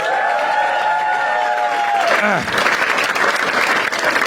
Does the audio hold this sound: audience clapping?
yes